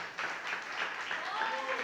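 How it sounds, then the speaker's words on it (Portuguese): A church congregation at a worship service applauds in a steady, dense wash of clapping, with voices speaking over it throughout. "Vamos dar uma salva de palmas para Jesus"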